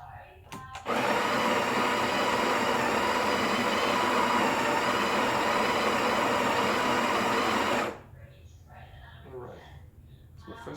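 A Breville Barista Express BES870BKS's built-in grinder grinds a single dose of coffee beans, a loud, continuous whirring grind of about seven seconds that starts and stops abruptly, with quieter kitchen sounds afterward.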